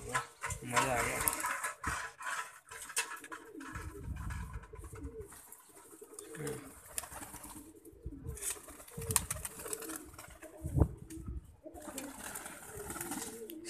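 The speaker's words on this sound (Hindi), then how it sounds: "सारे कबूतर बहुत ही खुश दिखाई दे रहे हैं" Pigeons feeding on peas coo repeatedly in low, throaty bursts, close by, mixed with soft rustling and flutters, with people talking at times.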